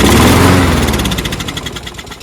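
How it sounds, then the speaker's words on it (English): A small engine with a dirty carburetor, just cleaned and primed through the intake manifold, sputters and runs loudly for a moment, then its pulsing rhythm fades as it winds down. "See if it at least fires up."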